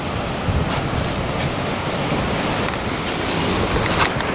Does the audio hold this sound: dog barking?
no